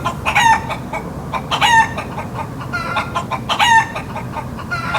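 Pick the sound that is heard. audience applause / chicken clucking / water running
chicken clucking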